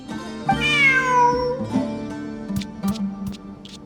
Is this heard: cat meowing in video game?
yes